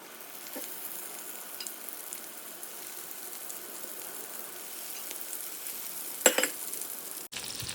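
Stuffed brinjals fry in oil in a pan with a quiet, steady sizzle throughout, with a brief sharper clink or stir near the end.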